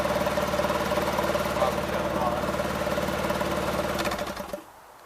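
A rebuilt engine on a 450 tractor idles steadily and close by, a rough rhythmic chug with a mild knock, then cuts off abruptly near the end, leaving quiet.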